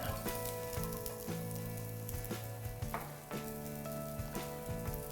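Garlic sizzles and crackles steadily in a hot pan already used for frying fish and shrimp, with occasional scraping stirs.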